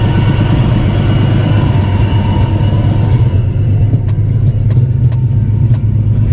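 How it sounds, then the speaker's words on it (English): Nissan 300ZX engine with a bad bearing and a misfire idles loudly and continuously, a heavy low rumble with faint ticking on top, close up with no talk. "I hear a bad bearing for sure."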